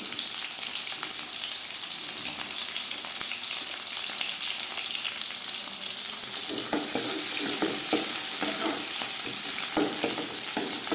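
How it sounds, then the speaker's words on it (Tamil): Onions, garlic and curry leaves sauté in hot oil in a pan, a loud continuous sizzle under irregular stirring scrapes that grow busier toward the end, with no voices. "வெங்காயம் போட்டு நல்லா வதங்கிடுச்சுங்க"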